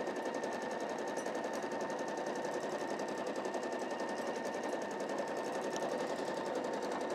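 A sewing machine runs steadily, stitching the self binding along the seams of a quilted table cloth in one continuous, even, close-up whir with no pauses and no voices.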